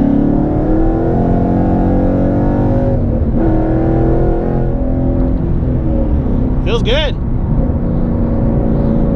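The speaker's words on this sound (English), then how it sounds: "Go down this road a little ways and we'll give it a rip." A 2013 Ford Mustang GT engine revs and pulls hard through the gears on an open road, the drone rising and dropping with each shift, while a voice speaks briefly over it.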